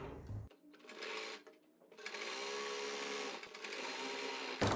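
A sewing machine stitches the inner seam of an umbrella palazzo with a half-inch margin, running in bursts with brief pauses and a steady mechanical hum.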